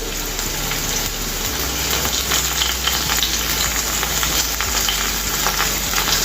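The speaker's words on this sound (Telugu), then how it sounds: "అలాగే చిన్నగా తరిగి పెట్టుకున్న ఉల్లిపాయ ముక్కలు. హై ఫ్లేమ్ మీదనే వేయించుకోవాలండి" Finely chopped onions fry on a high flame for paneer fried rice, giving a loud, steady, close sizzle with occasional stirring clicks throughout.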